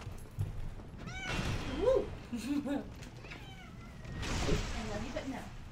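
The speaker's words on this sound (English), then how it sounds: "Baby, get the cat." A cat meows several times in the room during a Dark Souls play session, the short, rising calls sitting under and between a player's talk and game sounds.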